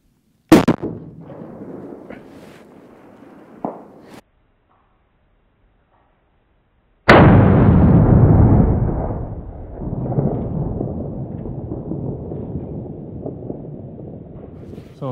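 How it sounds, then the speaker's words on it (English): A cold-bore rifle shot from a 280 Ackley Improved aimed at a 700 m target: a sharp loud blast followed by a long rolling echo that fades slowly, with a fainter earlier crack and a brief silent gap before it. "First shot, cold bore."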